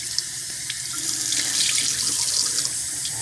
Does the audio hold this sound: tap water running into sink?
yes